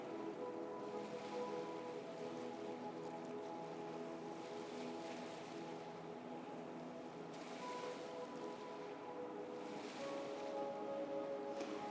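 Ocean waves wash in slow, soft swells beneath steady, calm ambient music, the surf rising and falling gently in the background of a guided meditation.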